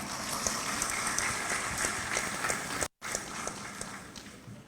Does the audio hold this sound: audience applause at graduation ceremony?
yes